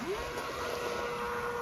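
Model jet boat on a pond, its small motor giving a steady buzzing whine that rises briefly in pitch and then holds, over a faint outdoor background.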